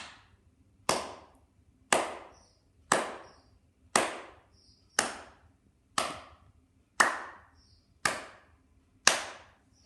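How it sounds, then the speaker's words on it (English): Ten sharp hand claps ring out one by one at an even pace of about one per second, close and crisp, each fading quickly, with no voice. "If you said I did 10 claps, you were right."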